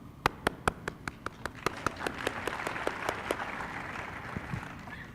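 Audience clapping for an invited speaker at an English-teaching forum: a slow unison rhythm of a dozen or so crisp claps that then dissolves into looser scattered applause, which thins out toward the end.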